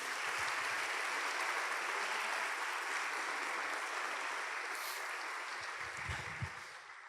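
A church congregation claps together in steady, even applause that fills the room, holding at a fairly constant level for several seconds before easing slightly, with a few low thumps near the end.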